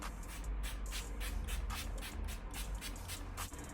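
A series of short setting spray bursts onto a face, about a dozen quick pumps in a steady rhythm, close and fairly soft.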